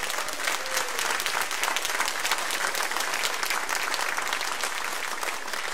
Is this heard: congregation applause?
yes